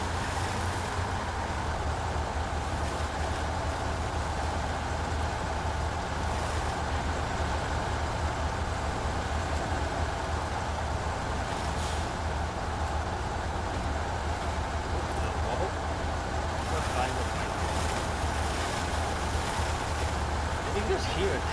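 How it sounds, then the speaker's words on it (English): A farm vehicle grinds through deep mud in the off-road driving game Snowrunner, with a continuous heavy engine drone and churning rumble throughout, and a voice talking over it. "You can just hear it carving the bloody mud out of the way."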